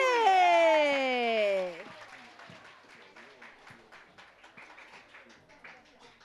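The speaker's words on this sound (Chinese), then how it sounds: "掌声鼓励！" A church congregation claps as a children's class comes up to perform at a Sunday service, a soft, fairly distant patter of applause that follows a loud burst of high-pitched cheering from several voices.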